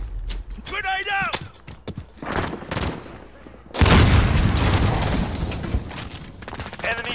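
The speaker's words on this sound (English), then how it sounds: "Grenade out." A grenade detonates in Call of Duty with a loud, sudden boom that rolls into a long rumbling tail, following scattered gunfire, with voices talking over the game audio.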